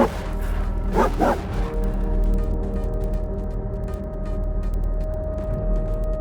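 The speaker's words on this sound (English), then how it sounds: "He barked and growled and snarled through the whole night." A dog barks in a couple of sharp close bursts near the start, then growls and whimpers low and continuously under a steady droning background.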